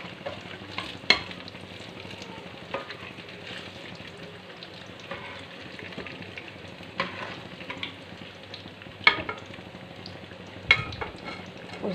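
Dal bharaya fritters fry in hot oil with a soft, continuous bubbling sizzle, and an occasional sharp tap or clink sounds as they are turned.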